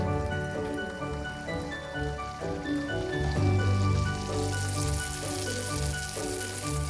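Neyyappam batter fries in hot oil, giving a steady soft crackling sizzle like light rain that holds evenly throughout at low volume, with no voices.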